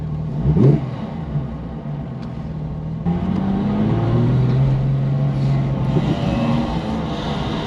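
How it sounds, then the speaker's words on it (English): An LS1 V8 engine swapped into a Porsche 911 rumbles and revs, one sharp burst early, then a steady droning exhaust note rising and holding close up, with no talking. "It's noisy in the best Porsche way."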